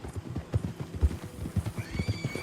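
A horse in Red Dead Redemption 2 trots along a road with a steady clip-clop of hooves, close and rhythmic, before letting out a high whinny near the end.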